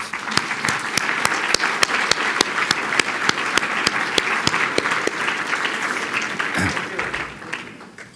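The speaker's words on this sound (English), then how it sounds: "let's give them a big round of applause" Audience applause fills a banquet hall at a medical alumni association awards celebration dinner, steady and sustained with sharp individual claps standing out, tapering off near the end.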